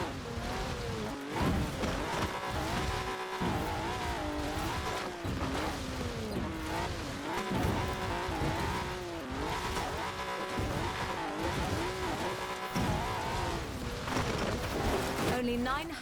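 A car races in the video game Forza Horizon 4, its engine note rising and falling steadily throughout, with squealing tires and skids over the game's constant drive sound.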